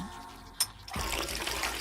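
A bathroom shower is switched on after a brief click and its water begins running in a steady, fairly quiet hiss.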